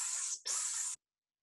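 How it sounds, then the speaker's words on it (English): A spray bottle gives two quick hissing spritzes, the first longer, the second following after a brief gap, both close and fairly loud, then silence. "Get your spray bottle"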